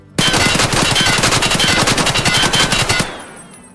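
A single sustained burst of automatic gunfire from a gun in Escape From Tarkov: about three seconds of rapid, evenly spaced shots, loud and close, then a short fading echo and silence.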